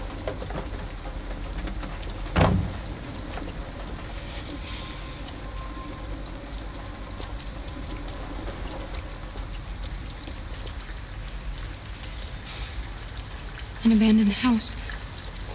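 Steady rain falling outdoors near an abandoned house in Detroit: Become Human, a constant wash of drops with a couple of louder splashes, while characters briefly speak over it.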